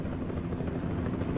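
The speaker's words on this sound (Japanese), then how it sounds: "なんだこれ、ヘリコプターがいるんですけど。" Helicopter hovering over a road closure in a driving video game, a steady low rotor drone holding constant and fairly faint throughout, with no voices.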